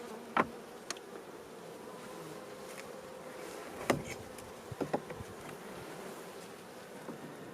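A dense, steady buzz of many honeybees fills the air close by in an opened hive during an inspection as the colony comes out of winter, with occasional clicks and knocks of handling.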